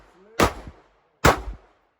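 Two sharp, loud gunshots from a Glock 26 pistol ring out about a second apart at close range, each with a booming crack and a short decaying tail.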